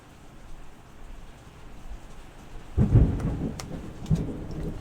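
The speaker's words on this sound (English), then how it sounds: "Hear that thunder?" Thunder rumbles through steady rain during a thunderstorm, with a loud low roll building after a quiet start and a second weaker crack near the end.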